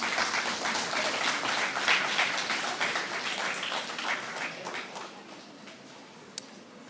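Lecture audience applauding in a university hall, a steady dense wash of many hands clapping throughout, fading slightly toward the end with one sharp isolated clap near the close.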